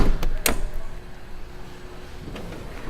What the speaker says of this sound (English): Windows do go down in the sliding doors.